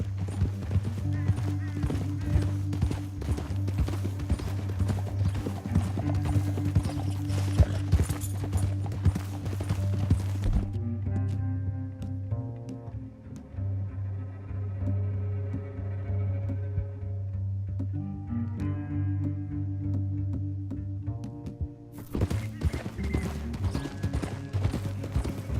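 Horse hooves clip-clop in a steady rhythm through a Red Dead Redemption 2 video game scene, riding under a low droning music bed that drops away midway and then swells back.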